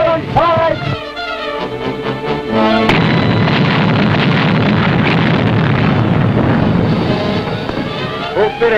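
Naval guns fire aboard a 1941 warship in a dense, loud barrage of booming blasts and sustained roaring detonations, following brief tonal sounds at the start and continuing as one heavy wash of noise.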